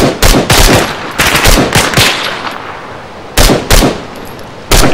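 Rifle gunfire in the military shooter ArmA 3, loud, close bursts of rapid automatic fire with short gaps between them and a ringing tail after each volley.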